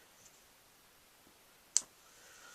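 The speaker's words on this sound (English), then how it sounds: "we'll go ahead and stamp that on our envelope" Rubber stamp pressed onto an envelope, a single faint soft thud against a quiet room background.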